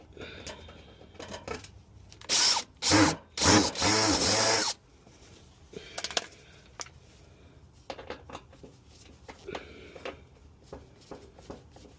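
A cordless power drill backs a screw out of a wrecked car's body, with several loud close bursts of whirring in a row, then quieter clicks, rattles and handling noises of the screw and tool.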